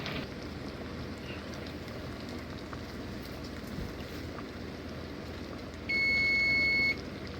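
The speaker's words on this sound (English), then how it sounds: "So my timer's going off" A kitchen timer set while dry beans boil sounds one steady, loud electronic beep lasting about a second near the end, over a constant background of boiling, hissing water.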